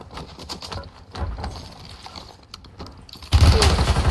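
Gunfire in the video game Warzone crackles in rapid bursts, with scattered shots at a middle distance before a loud, dense volley erupts up close near the end.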